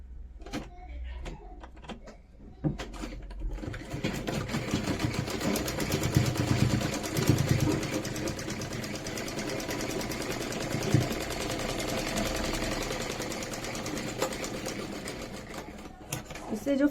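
A sewing machine stitches a seam on ladies' pants, whirring in a steady rapid rattle through most of the clip after a few handling knocks at the start, with someone talking over it.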